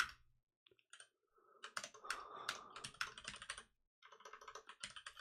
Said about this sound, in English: if I knew where keys were on my keyboard